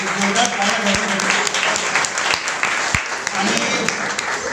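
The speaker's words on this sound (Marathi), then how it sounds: "जोरदार टाळ्या वाजवून." An audience at a Diwali morning music celebration claps loudly and steadily in sustained applause, with a few louder thumps scattered through and voices mixed in.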